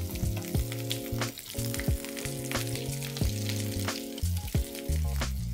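Khichdi cutlets fry in a hot pan, a steady close sizzle with scraping taps and clunks as they are nudged and flipped over, along with a tonal hum running beneath.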